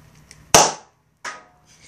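A small homemade cannon fires loads of nitrocellulose gun cotton set off by a hot wire at the press of a button, two sharp close pops with hissing decay, the second one softer.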